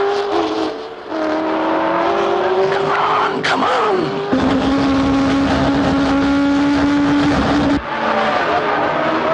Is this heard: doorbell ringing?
no